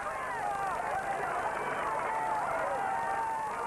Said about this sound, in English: Through the dust and the noise, the cheering crowds here